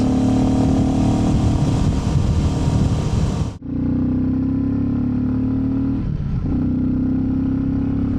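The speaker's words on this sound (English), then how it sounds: "So how much of the engine noise can you hear?" Loud, steady motorcycle engine drone while riding, with a sharp dip midway as the tone shifts, then a lower sustained hum continuing close by.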